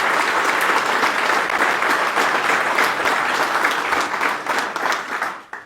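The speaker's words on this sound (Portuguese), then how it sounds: "Peço uma salva de palmas também para a nossa secretária" Loud, close applause from the audience at a Chega party national council meeting in Beja, dense continuous clapping that swells and fades toward the end.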